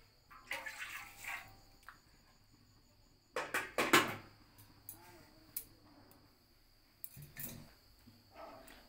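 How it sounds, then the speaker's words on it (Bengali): Water splashes in short bursts into a kitchen wok set on a gas stove, ready for boiling amla. The pours are close and intermittent, with quiet pauses between them. "গ্যাস ধরিয়ে কড়ায় জল দেব।"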